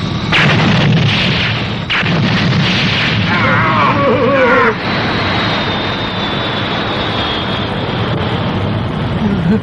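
Missiles launching and exploding in an anime film: a rapid series of loud booms and blasts with a rushing roar and a jet-like whine, dense and continuous, with a voice heard briefly in the mix.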